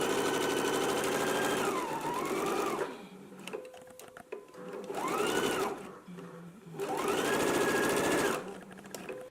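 Stitching a 5/8 inch center back seam on a garment, a sewing machine whirs in three runs that rise and fall in speed, broken by brief gaps filled with small handling clicks.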